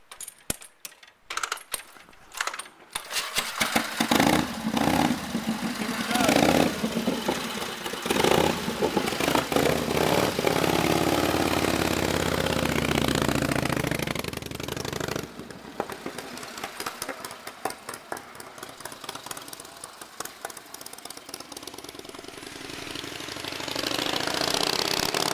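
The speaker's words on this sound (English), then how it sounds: "First kick here at Wheels Through Time on Buzz's twin cam Harley. It runs really sweet" An antique Harley-Davidson JDH twin cam motorcycle at Wheels Through Time is kicked over with a few sharp bangs, then settles into a loud, steady, thumping run that later becomes choppier and farther off before building again.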